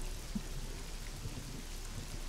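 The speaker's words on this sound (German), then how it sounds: "sobald der Hagel etwas geringer wird" A hailstorm with rain and thunder in a role-playing adventure, heard as a steady dense patter of falling rain with low rumbling underneath and one soft thud, continuous and fairly quiet, with no voices.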